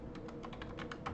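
Quick, close keystrokes on a computer keyboard as a command is typed into a command prompt: about eight crisp taps in a rapid, slightly uneven rhythm with no speech.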